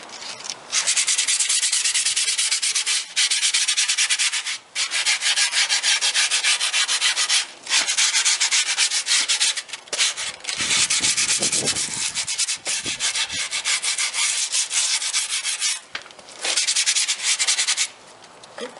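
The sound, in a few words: rubbing grip tape against deck edge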